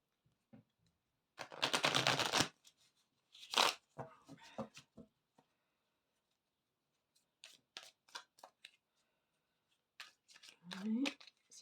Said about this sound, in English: Right, let's just shuffle.